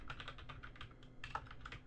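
Soft, quick keystrokes on a computer keyboard while coding in Python, a brief close run of light clicks with no talking.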